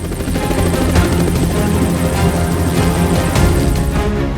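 A fleet of US combat helicopters flies over Caracas, Venezuela, during a military strike: a loud, continuous rotor thrum that throbs steadily throughout, close and dominant, with no voices.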